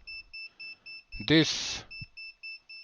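A UNI-T UT60S multimeter near its voltage range gives a steady train of short, high electronic beeps, repeating evenly before and after a brief spoken word and a burst of noise.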